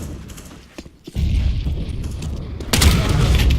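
Two heavy, booming grenade blasts go off in a shooter game, one short thud followed by a louder, broader explosion with a roaring tail.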